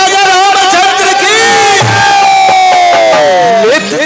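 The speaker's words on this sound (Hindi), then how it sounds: "सब लोग जोर से एक बार ताली बजा दीजिए।" A large crowd at a devotional Ram katha performance of the bow-breaking episode shouts and cheers together in a loud, sustained roar. The voices blend into ringing, chant-like tones with no separate talk.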